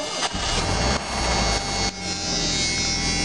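A turbocharged Ford Mustang engine cold-starting after sitting for 16 days, carbureted with a choke, giving a loud, steady roar that dips briefly near the start and middle before settling into a continuous idle.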